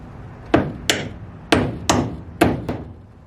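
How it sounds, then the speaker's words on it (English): A cordless brad nailer fires nails into a plywood wall on a DIY plywood houseboat, giving six sharp, loud snaps in uneven pairs about a second apart, each followed by a short decaying ring, with no talk. "excuse to buy the cordless brad nailer I've been wanting for like 2 years now"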